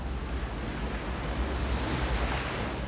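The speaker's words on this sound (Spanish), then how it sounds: "Solo el océano." Open Pacific Ocean surf, a steady broadband wash of waves mixed with wind rushing across the microphone, continuous and fairly loud with no voices.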